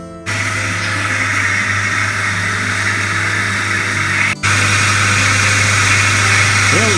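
A Jeep WJ with the 4.0 engine, fitted with a new ignition coil and plugs, idles steadily and loudly up close, with a steady low hum, a brief dropout partway through, then the idle carrying on.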